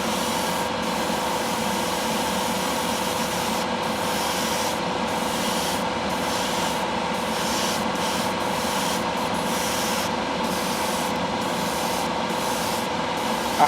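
Cellulose gloss paint sprayed from an airbrush onto a Tamiya 1/6 Yamaha YZ250 model motorcycle, a continuous close hiss with a compressor hum beneath it, broken by brief pauses in the spray.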